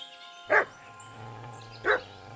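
Two short, distinct dog barks about a second apart in Kingdom Come: Deliverance 2, each a sharp burst above a steady low background hum, moderately near.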